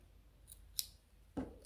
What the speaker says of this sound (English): now I can cut this yarn